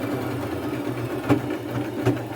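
A sewing machine stitches over a folded fringe edge on a thrifted maxi dress, running in a steady mechanical whir with two brief louder thumps along the way, close and alone.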